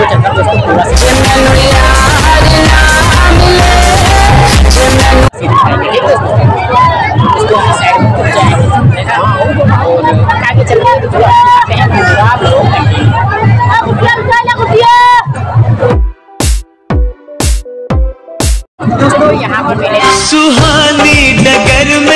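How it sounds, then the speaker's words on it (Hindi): Dense crowd hubbub at a busy fair, a constant roar of voices mixed with loud music, breaking briefly into a few sharp beats before the noise swells back. "बहुत भीड़ है इस मेले में"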